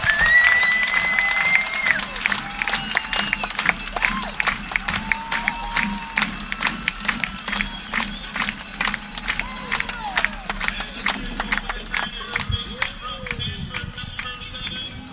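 Baseball crowd at a Corvallis Knights summer game cheering and applauding a triple: a dense, steady patter of clapping with crowd noise and scattered whistles, gradually thinning toward the end, under a voice heard throughout.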